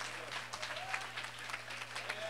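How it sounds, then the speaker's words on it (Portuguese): A church congregation at a golden jubilee service applauds, soft, dense clapping spread through the room and heard somewhat distantly, with a low steady hum underneath and no clear speech. "Aplauda ao Senhor Jesus."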